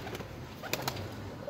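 Soft, low pigeon coos sound faintly at a distance against a steady background hiss.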